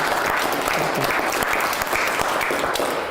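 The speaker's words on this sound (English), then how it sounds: "let's have applause" Church audience applauding after an art and design presentation, a continuous wash of clapping from a sizable room, steady and fairly loud throughout.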